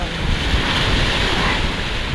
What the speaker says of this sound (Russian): Вот такое морюшка.